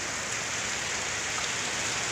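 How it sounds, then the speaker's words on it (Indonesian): Heavy rain falls over the Petung Tarik area, a continuous, even hiss of drops striking surfaces at moderate level without any speech. "Hujan masih lumayan deras menghiasi kawasan Petung Tarik."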